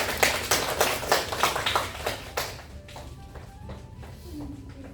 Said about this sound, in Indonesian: Beri tepuk tangan dulu buat Ratna.